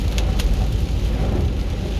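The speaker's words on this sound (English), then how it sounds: "It's raining," Steady rain falls outdoors, a dense even hiss with a low rumble underneath, continuous and fairly loud with no voices.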